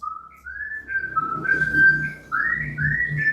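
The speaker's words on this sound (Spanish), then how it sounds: "¿Quién está chiflando, hermano?" A person whistles a wandering tune in a room during a church Bible study, a clear melodic line rising and falling with a short pause near the middle, backed by faint low background murmur.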